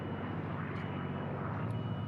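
Unlimited-class racing airplanes fly the pylon course, giving a steady distant engine drone that holds evenly throughout with no talk.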